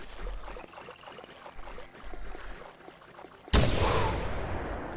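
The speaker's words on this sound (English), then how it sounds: "First shot was not good. Second shot wasn't good." Several shotgun blasts from a 12 gauge semi-automatic during a feral hog hunt in TheHunter, sharp reports spaced apart, the last one loud and close with a long booming tail.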